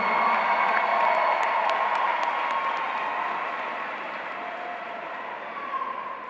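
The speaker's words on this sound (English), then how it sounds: "Let's give them a round of applause." Audience at a 2018 high school graduation ceremony applauds the graduating class, a steady wash of many hands clapping that fills the hall, holding strong and then tapering slightly toward the end.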